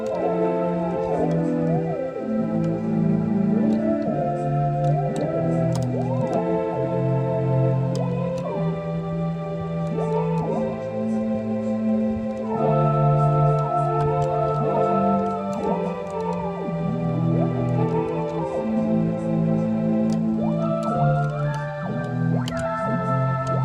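A Casio MA-150 and a Yamaha PSS-480 vintage keyboard are played together in a layered combination, with sustained chords and a melody line running steadily and fairly loud throughout, with no talking.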